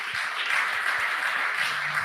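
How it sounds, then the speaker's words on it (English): A forum audience breaks into applause, a brief, steady burst of many hands clapping at a moderate level with no voices over it. "I think that deserves a round of applause"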